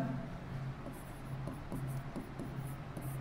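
A pen scratches on paper in short, quiet strokes during a Class 6 maths lesson, faint scraping bursts close by over a soft background.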